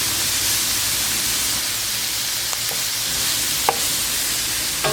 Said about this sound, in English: So we're going to get all of that in here and give it a good stir